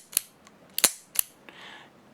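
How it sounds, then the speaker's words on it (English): .500 Magnum revolver mechanism being worked through a double-action trigger pull, a few sharp metallic clicks spaced apart, one louder snap, then a soft brief whir, close and without talk. "I will show you a double action shot."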